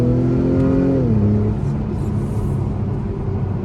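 A 2021 Acura TLX A-Spec engine pulls hard under acceleration, its steady rumbling drone dropping in pitch at a quick paddle-shifted gear change, then building again close-up inside the cabin.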